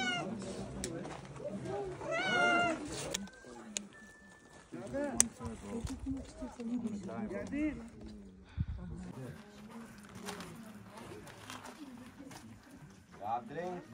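A cat meows several times in drawn-out, rising and falling cries while people talk nearby over steady background bustle.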